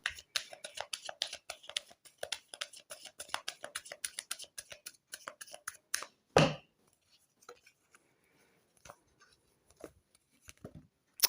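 A deck of tarot cards is shuffled by hand in quick, light, papery taps for several seconds. A single heavier thump follows, then near quiet.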